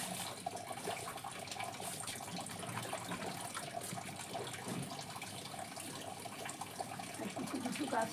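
Water poured onto young seedlings in a rooftop garden makes a continuous, fairly faint splashing and trickling that stays steady for several seconds, with no clear talk over it.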